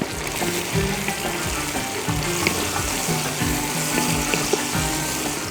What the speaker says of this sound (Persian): بعد با بالایش آب جوش را میریزیم